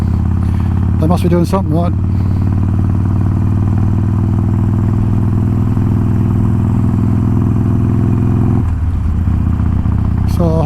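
Harley-Davidson Sportster 1200 motorcycle engine rumbling steadily and loud throughout, a low throbbing drone that dips near the end, with someone talking over it.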